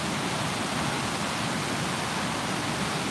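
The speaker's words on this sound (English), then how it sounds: "The water too loud." Loud, steady running water fills the whole span, a dense broadband rush like a nearby faucet or stream with no breaks and no voices.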